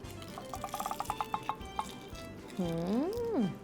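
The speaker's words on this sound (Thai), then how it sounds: "ราด น้ำจิ้มลงไปฟืบ" Dipping sauce poured over fried crab rolls wrapped in tofu skin, a run of small close drips and splashes followed by a brief liquid glug, with a rising and falling voiced hum near the end.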